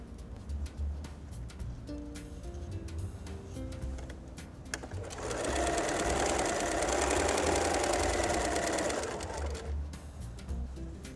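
A sewing machine chain-piecing fat quarter fabric blocks runs in a steady, fairly loud whir for about four seconds in the middle, with quieter handling sounds before and after.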